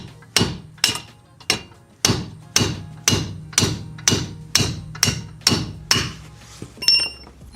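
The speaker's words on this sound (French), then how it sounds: "Donc un petit coup de marteau là." A hammer strikes a car suspension part, a steel wishbone arm being removed, about a dozen sharp metallic blows at a steady, slightly irregular pace, loud and close with ringing decay after each hit.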